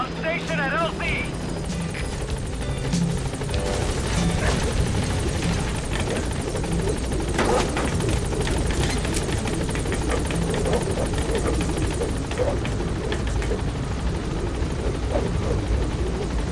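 A helicopter from the Metal Gear Solid V game arriving at a landing zone, its steady rotor thrum running continuously and fairly loud under radio-style voice chatter.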